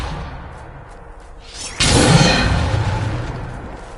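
Depulso force spell cast in Hogwarts Legacy: a rising whoosh ends in a sudden heavy blast, then a loud rushing burst of energy that slowly fades.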